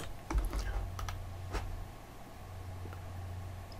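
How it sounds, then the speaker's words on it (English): A few quick clicks on a computer keyboard in a short flurry, followed by a lone keystroke, over a low steady hum in a quiet room. "let's type H again"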